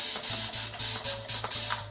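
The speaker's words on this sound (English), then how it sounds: "I'm gonna put quite a few sprays in here" Glass cleaner from a spray bottle squirted into water, six quick hissing sprays in a steady rhythm, each with a soft mechanical click of the trigger, close and clear.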